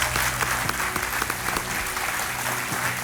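Studio audience on a televised quiz show clapping in steady, dense applause that fills the room at an even, loud level throughout, with a faint voice briefly underneath.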